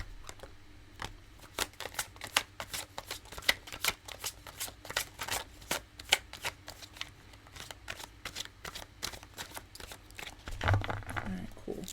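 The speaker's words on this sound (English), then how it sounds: "at the end of the third shuffle, I'll take the top card if none fly out" Tarot cards riffled and shuffled in quick bursts of crisp flutters and slaps, close by, with a soft thump near the end.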